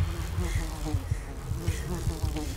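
A swarm of bees in the spooky cult video game The Chant buzzes loudly and steadily up close, a dense, wavering drone with no voices over it.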